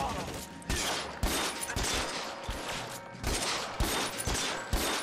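Rapid video game gunfire on a Hollywood film set in a detective game, with sharp shots in quick bursts repeating across the clip, near and fairly loud.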